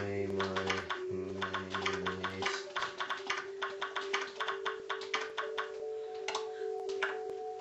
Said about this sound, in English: Don't know if you can see that, but I'm typing